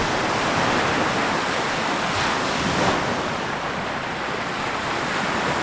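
Steady broadband surf from waves washing onto a beach at low tide, a continuous loud wash with slight swells and some wind noise, no voices.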